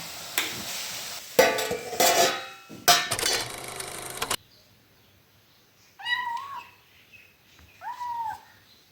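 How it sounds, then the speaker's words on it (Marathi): A young cat meows twice in the second half, short rising calls close to the microphone, after a stretch of clattering and scraping from a new kadhai being stirred in a home kitchen. "हा बोका आहे का माझा पिल्लू मांजर आहे"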